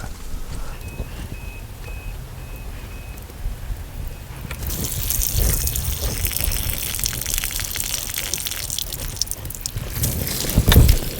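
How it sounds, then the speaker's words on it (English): A quiet background hiss gives way midway to a loud, steady gush of water rushing out of uncapped RV water lines and splashing, continuing strongly to the end without speech. "We're just going to remove these caps and let the rest of the water drain out."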